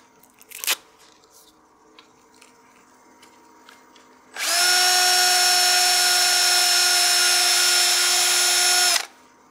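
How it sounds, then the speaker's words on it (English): A power sander works the rim of a turned wooden succulent planter, starting abruptly after quiet shop ambience and running as a loud, steady high whine for about five seconds before cutting off. "As I'm working with the sander, I want to make sure to maintain contact just on the rim"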